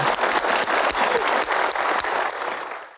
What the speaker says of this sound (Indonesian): Kita berikan aplaus untuk Pak Doni